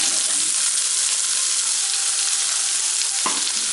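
Finely chopped carrots fry in hot oil in a pan, giving a loud, continuous crackling sizzle with a brief stirring scrape near the end.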